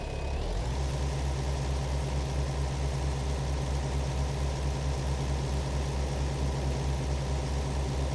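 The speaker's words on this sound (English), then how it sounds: "fold it, start the engine." Farm vehicle engine in a farming simulator game cranks over and settles into a steady, loud idle, a continuous low rumble with no talking.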